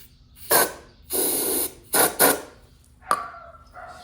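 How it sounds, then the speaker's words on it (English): Short hissing bursts of starting fluid sprayed into a lawn mower engine, a long blast and a few quick puffs, close up, followed by a light metallic clink. "I'll take starting fluid, sprayed it in the center"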